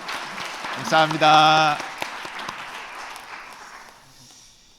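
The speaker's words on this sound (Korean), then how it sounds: "격려 박수 부탁드리겠습니다" A church congregation claps for its district leaders during a Sunday afternoon service, a broad wash of applause that tapers off gradually, with someone speaking briefly over it.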